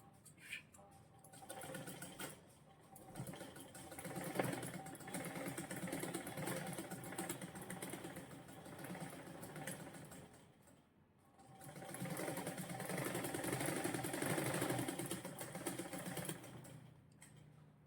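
A sewing machine stitches a coat collar in two long whirring runs with a brief stop between, close and fairly quiet, while someone talks softly.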